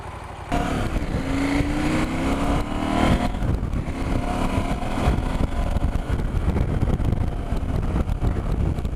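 A KTM 790 Adventure motorcycle on the road, its engine droning steadily under heavy wind rush, with a rising gear whine as the bike picks up speed.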